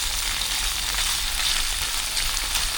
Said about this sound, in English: we want to get our sausage brown on both sides